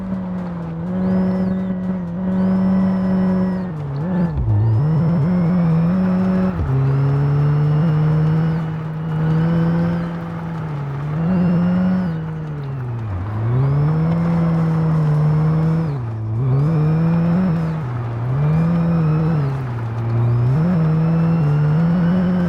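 A car engine drones steadily in the racing game My Garage, a junkyard car rebuilt as a rally car, rising and dipping in pitch through gear changes, loud and continuous with no talking.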